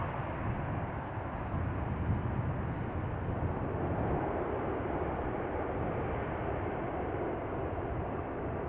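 Airliner at Amsterdam Schiphol Airport, a steady broadband jet engine roar heard from a distance, continuous and unchanging throughout with no voices.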